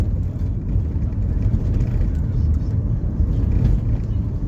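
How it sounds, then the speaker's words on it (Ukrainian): A car driving along a city road in a steady, loud rumble of engine and road noise, low and continuous from inside the cabin, with no clear talk over it. "Ну, Ваня, зато інтересно, бо ми на машині їдемо"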